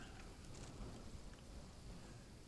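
Heavy rain pours steadily outside, a dense, even wash of noise with no breaks, fairly faint and heard indoors.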